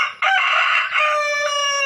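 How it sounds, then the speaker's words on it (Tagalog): A rooster on a farm kept with turkeys and chickens gives a single long, loud crow close by, with no other sound around it. "Yan, alaga nating pabo, mga manok."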